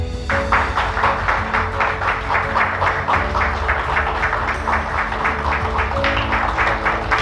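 An audience at a certificate award ceremony applauds with rhythmic, fairly synchronized clapping, loud and sustained, with a low hum of the room underneath.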